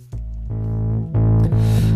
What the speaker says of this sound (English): So that's the bass line with a bit of distortion on it.